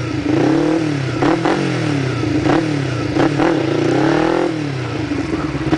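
A motorcycle engine revs close by during wheelie practice as the throttle is raised, with several rising-and-falling surges and a steady idle beneath, no talking.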